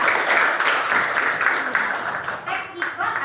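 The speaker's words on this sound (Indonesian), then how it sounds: "tepuk tangan dulu guys" Applause and clapping from a classroom group, a steady dense patter of hands that continues at even loudness for a few seconds, with some voices mixed in.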